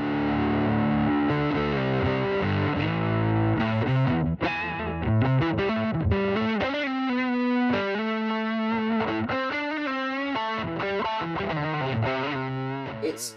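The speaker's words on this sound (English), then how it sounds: "you can get those kind of classic high gain fuzz tones, which the Rat kind of is famous for" A Rat-style high-gain fuzz pedal from the JSA range drives an electric guitar through chords and single-note runs, loud, saturated and continuous, with no voices over it.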